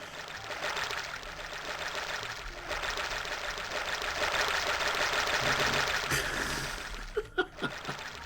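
Continuous rushing flow of sewage water in a video game, steady and fairly loud for most of the stretch, ending in a few sharp splashes.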